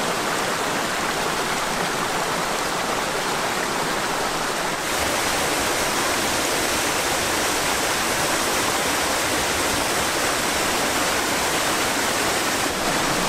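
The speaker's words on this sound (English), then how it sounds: "The first thing is this awesome waterfall." A waterfall in Dunedin, New Zealand roars steadily, a dense broadband wash of falling water that stays constant throughout, close and loud with no voices.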